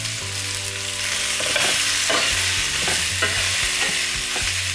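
Beef searing in oil in a hot pan for beef stout and bacon pot pies, a loud steady sizzle up close with scraping and stirring noises throughout.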